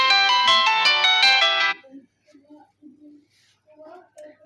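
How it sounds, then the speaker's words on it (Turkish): A mobile phone ringtone plays loudly on a balcony among potted geraniums, a bright melodic tune lasting under two seconds before it cuts off, followed by faint soft sounds and quiet speech. "Telefonun sesini kısmamışım."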